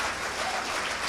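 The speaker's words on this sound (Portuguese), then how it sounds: "Aplauda ele em nome de Jesus." A brief, dense burst of congregational clapping during a church service, steady and even throughout the short moment.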